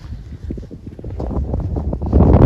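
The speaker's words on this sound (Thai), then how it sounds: "ลมมันแห้งพี่น้องนะ" Cold, dry wind blows outdoors, buffeting the microphone with a steady low rumble that swells stronger toward the end, loud and close, with no voices.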